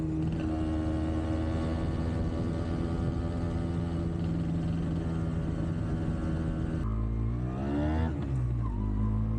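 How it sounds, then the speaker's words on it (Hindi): A Yamaha YB100 two-stroke motorcycle exhaust drones steadily up close with a buzzy, raspy tone, then rises in a brief rev near the end. "एग्जॉस्ट की आवाज़ थोड़ी सी अनोइंग है, लेकिन वो पार्ट एंड पार्सल है इस चीज़ का"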